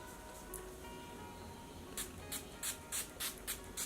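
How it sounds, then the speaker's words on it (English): Project Beauty Spray Set and Go makeup setting spray is pumped in a quick series of short, soft misting bursts, about seven puffs in an uneven rhythm, close and quiet against a faint room hum. "To set my face, I'll be using the Project Beauty Spray Set and Go Makeup Setting Spray."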